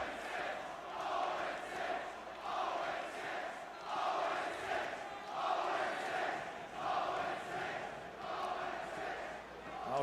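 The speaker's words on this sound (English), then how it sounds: "The crowd letting Snoopy know now." Esports arena crowd at a Call of Duty League Champs 2025 match, a broad sustained roar with rhythmic swells like chanting, steady and dense throughout, moderately distant, with no clear single voice.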